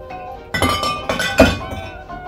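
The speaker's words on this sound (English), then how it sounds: "Place underneath the ice, stir it for 30 seconds." Bar spoon stirring a Negroni cocktail over ice in a mixing glass, giving a few distinct glassy clinks and clattering ice knocks close up, with no voices.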